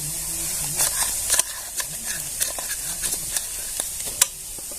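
Red chilli powder sautés in a hot pan with onion for a wheat-bran vegetable dish, a constant close sizzle with scattered scraping stirs and a few sharper taps, no voices.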